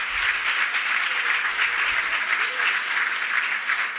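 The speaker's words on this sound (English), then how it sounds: "Give her a round of applause." An audience at an Emancipation Day breakfast applauds for Congresswoman Terry Sewell, a steady, fairly loud burst of clapping from a sizable crowd that holds evenly across the whole stretch.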